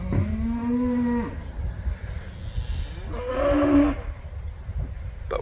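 Cows on a ranch, open cows meeting new herd mates at a fence, give two drawn-out moos a couple of seconds apart, fairly close and loud, with quiet outdoor background between.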